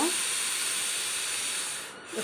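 A pressure cooker cooking sambar releases steam in a loud, continuous hiss that eases slightly near the end.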